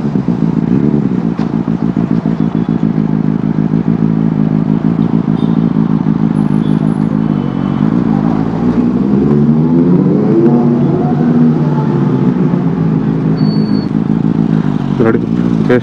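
A Benelli 600i four-cylinder motorcycle engine revs and idles close by, with a continuous rumbling drone that rises and falls in pitch as the throttle is blipped, steady and loud for the whole stretch.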